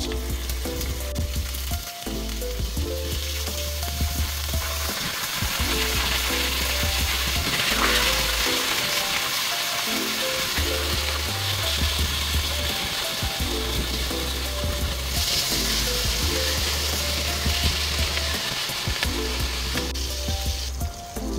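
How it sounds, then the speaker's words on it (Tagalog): Pork liempo par-frying in hot cooking oil in a pan, a steady loud sizzle and crackle running throughout alongside a repeating rhythmic background pattern, with no talking. "atin munang ipapar-fry yung ating pork liempo"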